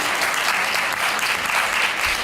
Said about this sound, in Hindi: तालियां तो एक बार जोरदार फिर से बजनी चाहिए विपिन गौर जी के लिए